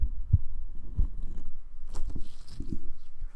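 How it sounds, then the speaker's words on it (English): Soft, muffled squishing and thumping of a stress ball pressed right against the microphone, a few dull low bumps followed by faint crinkly squelches. "I have this stress ball I got for Christmas, and I really like the sounds it makes."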